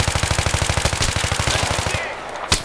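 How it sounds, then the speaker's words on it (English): Rapid, evenly spaced automatic fire from an F2000 rifle in Battlefield 3, a loud, fast stream of shots that stops near the end, followed by a single sharp burst. "F2000, that I just got killed by. That's a pretty darn fast firing weapon."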